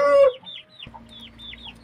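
Indian chickens cluck in a quick series of short, close calls, preceded by a brief louder squawk, with a faint hum behind.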